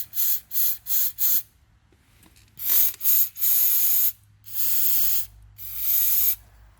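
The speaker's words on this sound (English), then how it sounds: "Spray that down, spray it in the hole" Aerosol cleaner sprayed from a can into a bolt hole on a corroded BMW 325i engine: four quick close hissing bursts, then a pause, then several longer sustained sprays, loud and with no talking.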